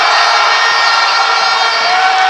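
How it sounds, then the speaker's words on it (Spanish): A basketball crowd at a Spanish first-division championship semifinal keeps up a steady wall of cheering and shouting, loud and continuous across the short stretch. "Gritan los espectadores."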